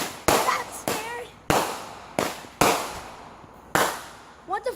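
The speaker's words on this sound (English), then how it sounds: "what the firework flipped over and shot at the house?" Fireworks go off at a house, one flipping over and firing toward it: six or so sharp, loud bangs in an irregular sequence with some whistling crackle, and brief voices near the end.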